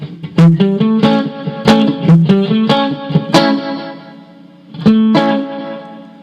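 An electric guitar runs through a FlyRig 5 effects pedal with delay and reverb, playing loud plucked notes and chords whose trails ring and repeat into the gaps, ending with a short pause before two final strums.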